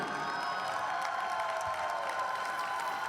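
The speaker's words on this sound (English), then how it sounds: "a big cheer from the home crowd" Home crowd at a junior figure skating event in Ostrava, Czech Republic: a steady, distant wash of cheering and applause in a large arena, even in level from start to finish.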